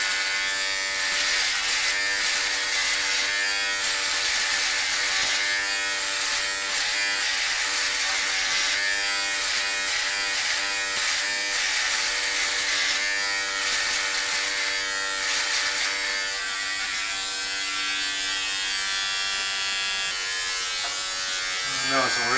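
An electric shaver trimming, a loud steady buzzing whine running continuously close up for over twenty seconds while people talk over it.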